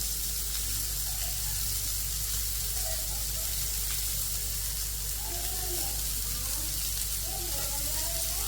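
Vegetables sizzle and fry in butter and beef fat on a hot griddle, a steady close hiss lasting throughout, while a voice talks faintly over it now and then.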